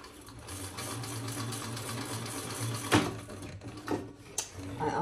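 Stitching a tote bag, a domestic sewing machine runs in a quiet, steady close-up whir, joined by a few sharp clicks and handling knocks near the end.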